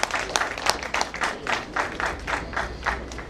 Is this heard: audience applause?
yes